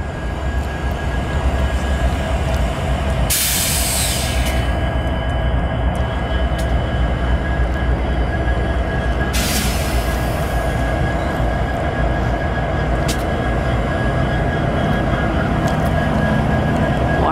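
Canadian National freight train passing close by with a loud, steady rumble of rolling cars. Wheel squeals and bursts of hiss break through the roar, and there is no talk.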